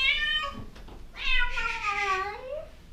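An abandoned cat in a landlord's house meows twice, a short cry followed by a longer drawn-out wavering meow, close and clear.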